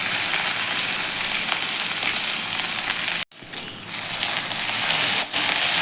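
Ginger garlic paste and cumin seeds sautéing in melted butter, a steady close hiss and crackle that briefly drops out, then returns at a similar level.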